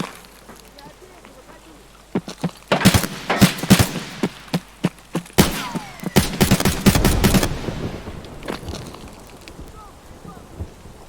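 Gunfire in the video game Escape From Tarkov, sharp single shots followed by dense rapid bursts close by, then fading, with people talking around the shooting.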